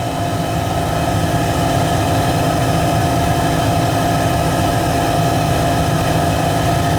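A gas boiler runs roughly, filling the space with a loud, continuous low drone and rattly vibration that persists unchanged throughout.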